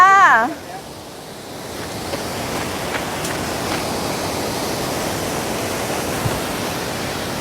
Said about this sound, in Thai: จะเป็นน้ำตกที่ไหลลงมาจากตรงชั้นสูงนู้นไหลลัดเลาะ ลำธารมานะคะ